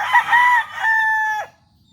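An Allen Roundhead gamefowl rooster crows once, close and loud, a strained two-part call that ends abruptly.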